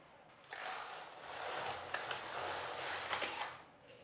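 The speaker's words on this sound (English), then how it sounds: "Now I'm going to knit the first zigzag row." A Passap Duomatic 80 knitting machine carriage runs across a double-bed zigzag row, a steady mechanical whirring rattle with small clicks, building after half a second and easing off near the end, moderately quiet and close.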